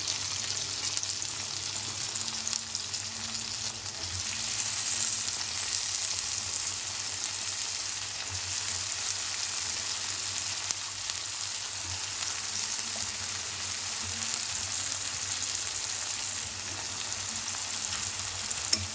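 Brinjal pieces with green chillies frying in a pan make a continuous, even sizzle with faint crackles, steady and close throughout.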